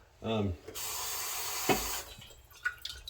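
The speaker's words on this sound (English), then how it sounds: "I'm gonna put 1/4 cup of water in this jar" Water from a quarter-cup measure pours into a nearly empty store-bought spaghetti sauce jar, a steady splashing run of about a second, close by, with a short voice before it and small clinks after.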